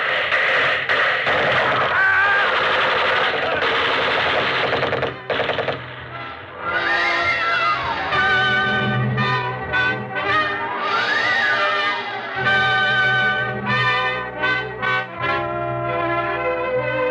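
Sustained machine-gun fire rattles loudly in an old-time radio drama set in a besieged ghetto, continuous rapid bursts layered with wavering siren-like tones and a crowd's voices for most of the stretch.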